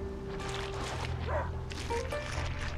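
Dog in the video game A Plague Tale: Innocence, a few distant yips and barks over a low ambient bed of water and wind, brief and moderately faint.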